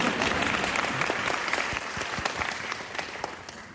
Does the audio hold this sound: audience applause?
yes